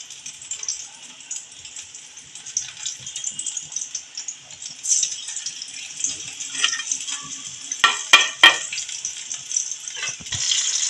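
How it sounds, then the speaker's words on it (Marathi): Spring rolls deep frying in hot oil give a soft continuous sizzle and bubbling, with occasional louder crackles and a few sharp clatters near the end, no voices. "आता हे डीप फ्राय करायचे."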